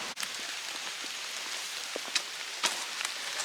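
Rain falling in a garden, a steady soft hiss of drops on surfaces with scattered louder individual drip ticks, fairly close and without talk.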